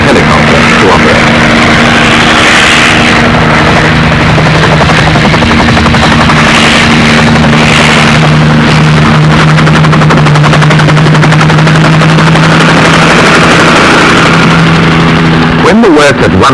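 A helicopter operates at a jungle clearing on Bougainville, its loud rapid rotor chop and steady engine whine filling the scene continuously, with a narrator talking over it.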